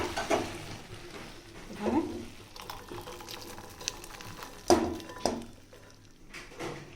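Cooked food being poured out of a pan, a few scraping and clattering utensil knocks against the metal with soft wet slides in between, close and moderately quiet, no talking.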